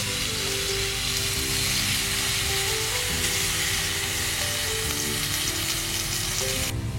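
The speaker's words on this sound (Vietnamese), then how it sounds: "Cô Mười sẽ khử tỏi cho thơm, sau đó bỏ cá vô cho nó cháy xém xém" Fish and garlic fry in a pan with a loud, continuous close-up sizzle and crackle that holds steady throughout, with no voices over it.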